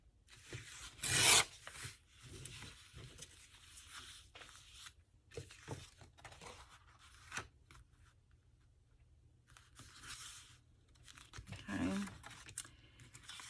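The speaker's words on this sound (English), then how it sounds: "I need to rip it here." Paper torn by hand for a junk journal, with a loud ripping burst near the start, then rasping rubs and softer tears scattered across the stretch, close up and alone.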